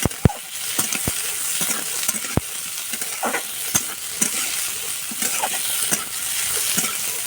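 Vegetables fry in a pan with a steady sizzle, broken by sharp clinks and scrapes of a spatula stirring against the metal at irregular intervals, close and fairly loud, with no voices.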